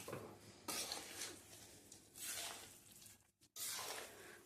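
Roasted flour panjiri being stirred with sugar in a pan on low heat, heard as soft repeated scraping and shuffling strokes with a short pause before the mixing resumes, close and fairly quiet.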